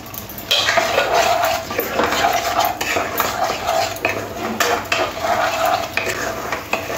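Spice masala frying in a pan is stirred vigorously, giving repeated metal scraping and clinking strokes in an uneven rhythm over a continuous close sizzle, with no talk.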